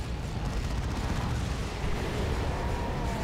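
Dense, continuous rumbling battle noise from a Dawn of War 2 match: frag assault explosions mixed with steady gunfire and artillery-like booms, loud and unbroken throughout.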